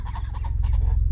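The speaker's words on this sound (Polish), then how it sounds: "gęsi, mamy gęsi" Geese honking in a rural Moldovan village setting, a close, loud burst of repeated nasal honks overlapping in quick succession over a steady low engine-like hum.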